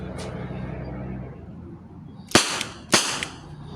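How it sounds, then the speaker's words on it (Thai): A WinGun 708 BB revolver fires two sharp double-action shots about half a second apart, loud and close, after a stretch of quiet background hum. "เทสยิงอ่ะทดสอบยิงไปสี่ต่อไปก็เป็นดับเบิลนะครับดับเบิลจะยิงสองนัดนะครับ"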